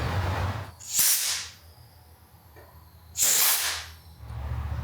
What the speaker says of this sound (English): I'm going to get some carb cleaner out and we're going to just start spraying through each of the passages